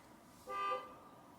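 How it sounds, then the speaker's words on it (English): A car horn sounds in one sustained honk of moderate loudness in a quiet residential setting, with a second blast starting abruptly at the end. "She's just gonna keep beeping the horn."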